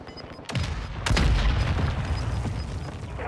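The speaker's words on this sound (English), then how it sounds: "Mortar strike inbound." Mortar rounds strike in Warzone 2: one heavy blast lands, then a second, bigger one half a second later, followed by a loud, rumbling roll of further impacts.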